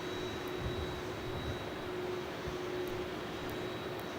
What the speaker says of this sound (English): Got Jetstar arriving as well. 214 from Auckland.